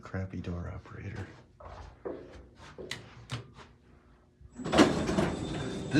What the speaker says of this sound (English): Old crappy door operator.